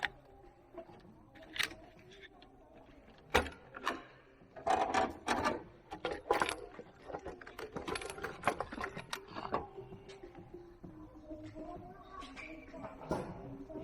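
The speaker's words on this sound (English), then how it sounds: "I want to pull all these bolts out" Valve cover bolts being pulled from a 2009 Cadillac CTS 3.6 V6 engine produce close, irregular metallic clinks, taps and rattles of bolts and tools, with a cluster of busier clatter in the middle.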